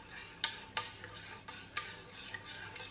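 A spoon stirring rice pudding laced with caramel skinny syrup in a bowl, a few soft irregular clinks and scrapes over a quiet background, with no talking.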